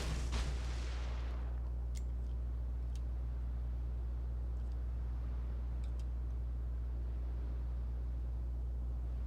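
Naval gunfire in a warship battle video game, with one loud boom at the start fading into a low rumble over steady engine hum, followed by a few faint distant cracks.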